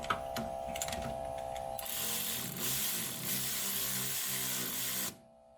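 A ratchet turns bolts back into the suspension of a BMW E36 sedan, a close, steady run of fast clicking with a few sharp taps before it, stopping abruptly near the end.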